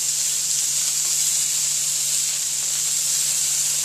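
Ground beef browning in a pan for Texas-style chili gives a loud, even, unbroken sizzling hiss throughout, with no talking over it.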